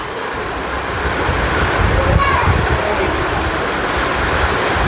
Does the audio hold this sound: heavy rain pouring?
yes